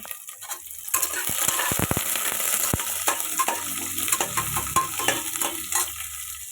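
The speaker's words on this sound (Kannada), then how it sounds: "ಈರುಳ್ಳಿ ಚೆನ್ನಾಗಿ ಫ್ರೈ ಮಾಡಿಕೊಂಡು" Onions frying in a pan for tomato bath, a continuous loud close sizzle with rapid clicking spatula scrapes and stirring knocks throughout.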